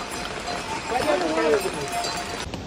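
Hooves clop along the mountain path to Kedarnath amid outdoor background noise, with a brief tonal call partway through.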